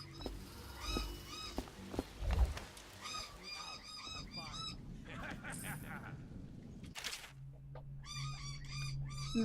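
Birds squawking repeatedly in the video game Dishonored, a series of harsh honking calls in short clustered bursts over low background rumble, with a voice speaking intermittently.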